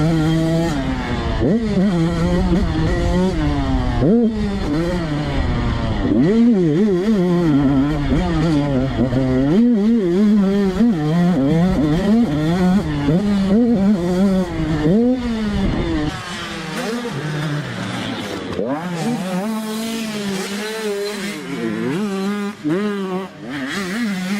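Dirt bike engines rev and wind up and down continuously, the motors buzzing hard and close, rising and falling with each throttle change, then dropping back to a lower drone near the end.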